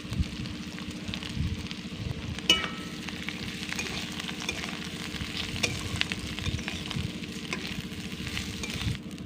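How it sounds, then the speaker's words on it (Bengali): Soaked rice fries in a pan for basanti pulao, giving a dense, continuous sizzle with a low rumble beneath and occasional scrapes and knocks of stirring, up close and without voices. "1-2 মিনিট চালটাকে এবার খুব সুন্দর করে একটু ভেজে নেব।"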